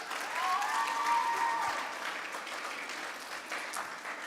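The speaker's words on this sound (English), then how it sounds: "Give him a round of applause." Audience applause fills a kids' camp gathering as a camper is called up, a dense, steady wash of clapping that swells early and then settles into a continuous, fairly loud roar throughout.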